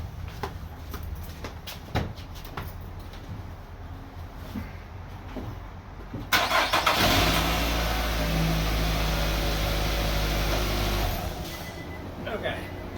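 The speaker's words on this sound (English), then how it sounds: "I'm going to try to start the car." A car engine cranks and catches about halfway through, right after a new battery is installed, then runs at a steady, loud idle for several seconds before dropping back; quieter handling noises come before it.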